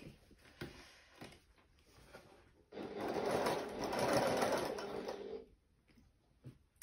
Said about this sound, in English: I'm going to top stitch with half a centimetre seam allowance, or 3/16 of an inch approximately.